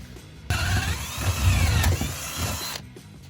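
A jigsaw cuts a hole out of wood while building an outdoor box toilet, a close, loud buzzing whine that runs for about two seconds between quieter pauses.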